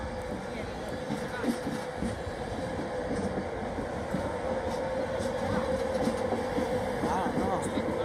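A diverted train passes through Durham station, a steady rumble of wheels and rolling stock holding close for several seconds, with faint voices at the platform.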